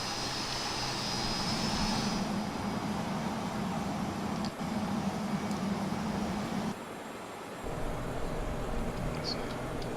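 Steady, loud airliner engine drone as heard from the passenger cabin in Microsoft Flight Simulator X, holding at an even level throughout with a brief dip near the end, and no talk over it.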